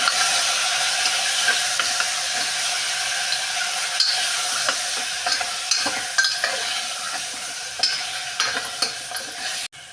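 Mutton with salt and turmeric powder is stirred in a hot pot, loud continuous sizzling broken by repeated scraping and clinking spoon strokes against the metal, close up with no voices.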